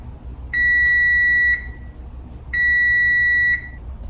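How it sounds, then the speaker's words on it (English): An oven timer sounds two steady electronic beeps, each about a second long and spaced evenly apart, loud and clear over a quiet room. "timer's about to go off, 5 seconds"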